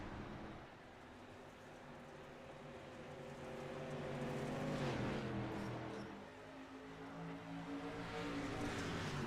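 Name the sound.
race cars racing in a heat race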